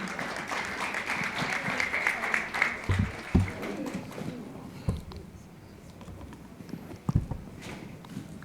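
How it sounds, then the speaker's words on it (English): Audience applause greets a keynote speaker at a conference, dense clapping filling the room for several seconds before thinning out into scattered claps. "Please give him a big round of applause."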